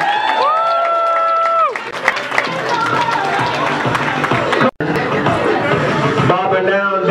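Loud, continuous crowd noise fills the scene at Super Mega Fest 2014, cheering and applause under dance music with tonal musical sounds. A brief dropout occurs near the end.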